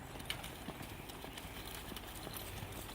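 A horse being ponied beside another horse, its hooves clip-clopping in a steady soft rhythm, faint and somewhat distant under a continuous outdoor hiss.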